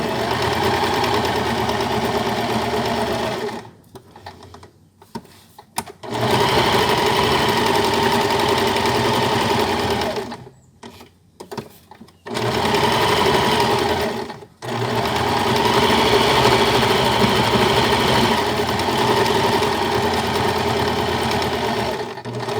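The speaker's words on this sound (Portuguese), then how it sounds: "vou costurar um pé de máquina toda a volta" A sewing machine stitches a child's fabric mask with a fine, short stitch all the way around, running loud and steady in long bursts broken by a few short pauses.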